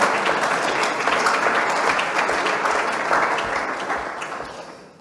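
Audience applause at an evening event on commitments for coasts and oceans: a dense, steady wash of clapping from a sizable crowd, loud and sustained, fading toward the end.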